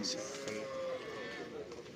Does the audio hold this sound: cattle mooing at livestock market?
yes